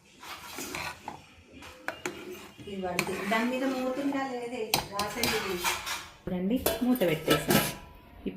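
Metal cookware clatters as a small plate and then a lid are set onto a cooking pot in a home kitchen, with several sharp clinks and rattles while someone talks over them.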